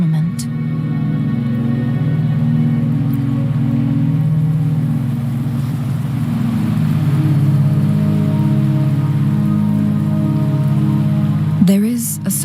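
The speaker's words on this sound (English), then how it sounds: "Don't worry, the rain won't last much longer." Steady rain falls in the game Wuthering Waves, a dense continuous hiss laid over a low droning hum, with a brief knock near the end.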